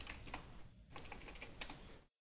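Quick bursts of keystrokes clatter on a computer keyboard, a close, brisk run of taps with a short pause in the middle before stopping abruptly.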